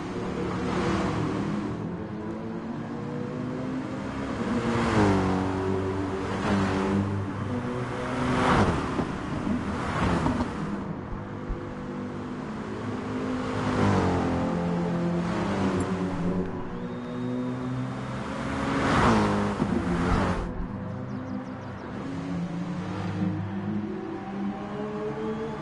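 DTM race cars with engines of close to 600 horsepower accelerate down the start-finish straight at Spa in a wet race in a racing video game. Engine notes rise and fall repeatedly through gear changes, steady and fairly loud, with no talking.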